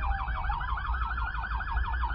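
An emergency vehicle siren wails during the Rio Grande do Sul floods, with a fast, regular up-and-down warble that repeats steadily over a low background rumble, moderately distant and with no talk.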